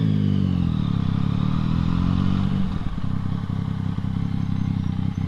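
A motorcycle passes close by with a loud engine drone that shifts in pitch as it goes, then settles into a steady rumble with light clatter.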